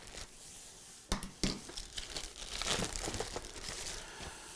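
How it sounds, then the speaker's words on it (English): Knife cutting open the packaging of a Ninja Foodi pressure cooker and air fryer: close crinkling and rustling of plastic and cardboard with a couple of sharp snaps, then steady crackling handling. "Can I just take this knife and just cut this stuff open?"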